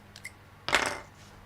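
Scissors picked up from a craft table while a handmade card is being assembled, a couple of faint ticks followed by one sharp metallic clatter, close and alone.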